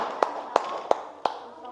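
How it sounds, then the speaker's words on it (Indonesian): Four slow, evenly spaced hand claps ring out in a classroom, loud and close, applauding a student group after their presentation. "Ya, tepuk tangan buat kelompoknya."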